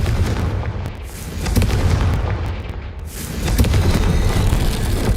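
A Confringo fire spell explodes in Hogwarts Legacy, a loud rumbling blast with crackling bursts that swells and rolls on for several seconds, with no voices.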